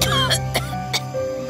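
An old woman coughs in several short, harsh bursts over a steady tonal background.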